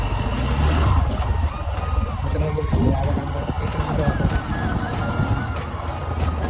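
A vehicle drives along a village road, giving a steady low engine rumble with some road noise throughout. Someone talks over it nearby.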